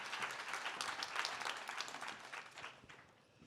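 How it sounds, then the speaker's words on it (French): Audience applause at a health podcast award ceremony, a dense, steady wash of many hands clapping in a hall, holding fairly even before thinning slightly toward the end. "Applaudir."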